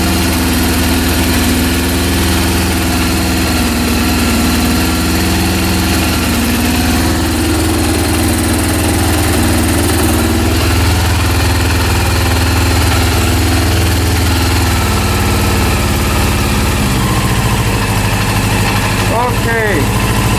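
A Honda CB400 motorcycle engine under rebuild idles at low RPM, a loud continuous mechanical thrum with steady vibration for the whole stretch, and a brief clatter near the end.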